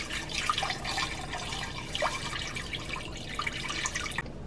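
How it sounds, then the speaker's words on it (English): Water poured into a pot over skin-on, bone-in chicken drumsticks for mole broth, a steady splashing, trickling stream that runs close and fairly loud for several seconds before cutting off abruptly near the end. "I added enough water just to cover the chicken"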